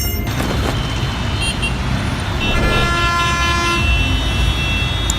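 Busy Indian street traffic roars steadily, with engines and road noise broken by repeated car and truck horn toots and honks, some sustained, loud and close.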